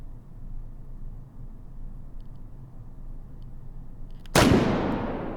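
A single heavy shot from an AWM sniper rifle in the VR game Hot Dogs, Horseshoes and Hand Grenades booms out loud and close after a quiet stretch, followed by a long fading echo.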